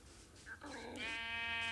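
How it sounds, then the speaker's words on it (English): Sheep bleating in the Minecraft video game: a short wavering bleat with a clear harmonic tone rises after a brief lead-in and holds steady to the end, loud and close with no talk. "Sheep died in water?"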